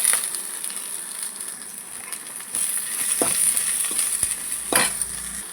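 Greens and coriander sautéing in a pan, a soft steady sizzle with a high hiss, broken by several sharp scraping stirs of a spoon against the pan.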